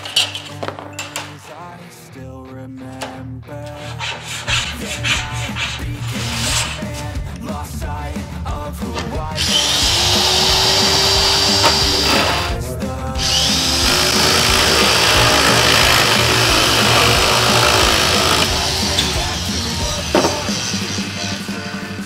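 Power tool cutting sheet metal for rust repair on a Honda Del Sol, loud harsh grinding and whining bursts with clinks of metal pieces between, long sustained screeching stretches in the second half.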